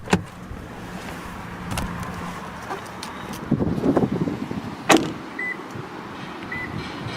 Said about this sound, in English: car is just chiming a few times to let me know it's lost detection of the key fob itself